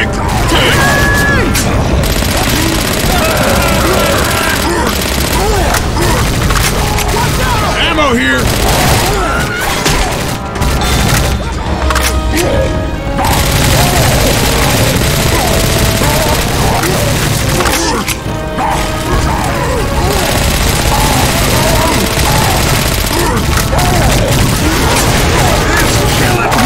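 Heavy gunfire and booming explosions from a Left 4 Dead 2 zombie firefight on the Parish waterfront, loud and continuous with cracks and thuds, while voices shout over the din.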